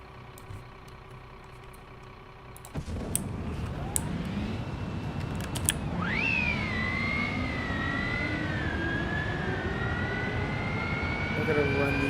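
A G Force aircraft engine runs steadily after an abrupt start, with a rising whine and tonal hum growing louder over a continuous roar that carries through the rest.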